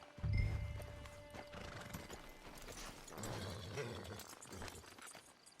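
A horse in the Western game Red Dead Redemption 2 clip-clops and gives a brief whinny, hooves thudding close over a low ambient bed.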